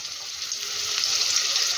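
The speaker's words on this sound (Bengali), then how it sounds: "কলার মুইঠার তেলেই আগে থেকে কেটে রাখা আলুগুলোকেও ভেজে নেব" Cut potato pieces frying in oil in a pan, a steady hissing sizzle running continuously and fairly close, with no talk over it.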